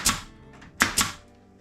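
A wooden tabletop turned over for clamping, giving three sharp hollow knocks and thumps, loud and close, with short quiet gaps between them.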